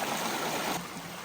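A mountain stream runs over mossy rocks along a trail, giving a steady, full rush of water close by with no voices.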